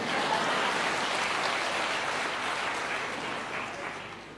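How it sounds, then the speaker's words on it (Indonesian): A church congregation applauding, a full room of clapping that starts strong and gradually thins and fades toward the end, with no voices over it. "Saudara mau tepuk tangan apa enggak maksudnya?"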